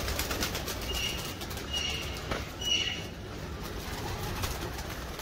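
Pigeons give soft, low coos amid brief wing flaps, faint against a steady background hiss.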